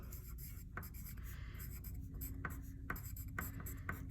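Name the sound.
writing a name on paper with a marker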